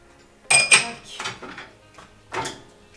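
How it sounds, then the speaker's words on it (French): Glasses lifted out of a home dishwasher rack, several sharp clinks and knocks of glass against the rack in quick succession, close by, with quiet pauses between. "Donc je sors tous les verres."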